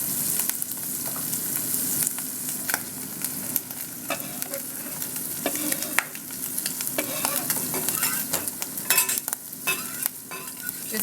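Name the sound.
mushrooms frying and being stirred in a pan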